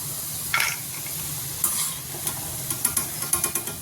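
Cashews frying in hot oil in a pan, a soft steady sizzle broken by sharp crackles and pops, close and with no voices.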